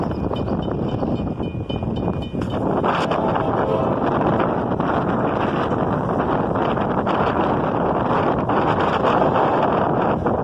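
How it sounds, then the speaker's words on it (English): Strong cold wind buffets the microphone on a Halloween night beside railroad tracks in town, a steady, loud roaring rush that fills the whole clip with no other clear sound. "It was very cold and windy that Halloween night."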